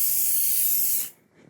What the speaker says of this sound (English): And then I'm going to quickly hit it with some accelerator.